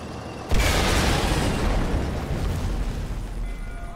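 An explosion in Sniper Elite 4 bursts suddenly after a short lull, then a heavy roaring rumble lingers and slowly fades.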